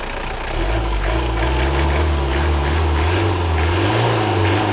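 A car engine running on homemade B100 fuel made from cooking oil, idling loudly up close with a steady low rumble and gentle swells of revving throughout.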